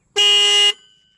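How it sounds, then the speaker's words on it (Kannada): One loud, close honk from a restored Yamaha RX 100 motorcycle horn, a steady buzzy tone lasting about half a second that cuts off cleanly with a faint trailing ring. "ಇಂಡಿಕೇಟ್ರು ಹಾರನ್ ಎಲ್ಲ ವರ್ಕಿಂಗ್ ಇದೆ."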